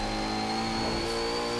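Engine of a Koenigsegg Agera RS hypercar in Forza Horizon 4, a steady sustained drone with a faint rise in pitch near the end, loud and continuous with no talking.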